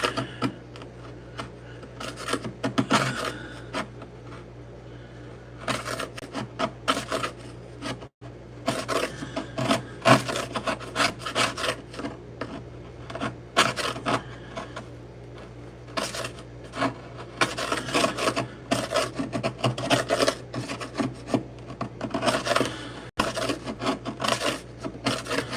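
Old flooring being hand-scraped before a vinyl plank install, irregular rasping strokes in bursts with short pauses, fairly quiet and close, with no talk.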